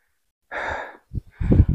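Heavy panting from a hiker climbing Mount Lawu on the Babar trail: a long breathy exhale, a pause, then several quick, ragged, close breaths.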